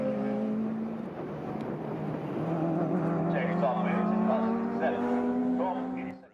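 Clubmans sports prototype race cars lapping Snetterton circuit, with engine drones rising and shifting as cars approach and pass, steady and fairly loud under continuous commentary speech.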